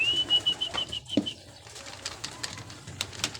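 Pigeons flap their wings as they settle into a coop, with brief wingbeat bursts and faint coos and chirps in a quiet setting, no speech.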